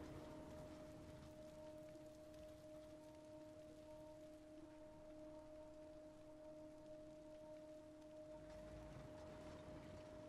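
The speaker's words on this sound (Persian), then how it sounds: "آه بارون هم گرفت ها." Steady rain in the video game Death Stranding hisses softly and evenly, faint and continuous, with a constant low tonal hum beneath it and no voices.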